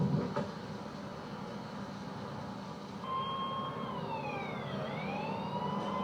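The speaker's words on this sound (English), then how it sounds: "Hearing the sound of sirens, Rick drove toward them" Emergency vehicle sirens wail at a rescue scene beside a drainage ditch. They rise and fall in sweeping tones starting about midway, at a moderate distance over a low background hum.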